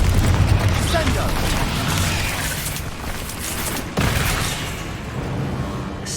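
Confringo blasting spell cast in Hogwarts Legacy, heavy booming impacts and rumbling blasts mixed with combat noise, with a sharp hit near the middle and voices speaking over the din.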